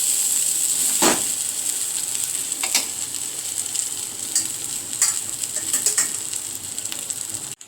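Basmati rice tossed with fried garlic in a hot pan, for garlic rice, gives a steady sizzle, with a few sharp scraping strokes of a spoon stirring through.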